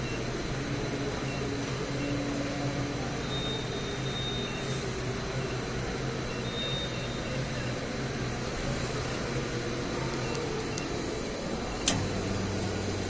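A vacuum pump evacuating the AC system of a Honda Amaze car gives a steady, continuous mechanical hum and drone throughout, with a faint hiss and one brief click near the end.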